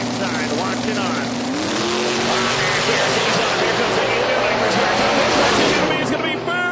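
A drag racing car blasting down the strip in an eliminations round, a loud roaring engine rising in pitch as it accelerates away, with a commentator talking over it.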